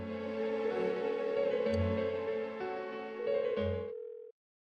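A phone rings on and on without being answered in the video game Persona 4 Golden, a steady electronic ringing tone that repeats in bursts and then cuts off.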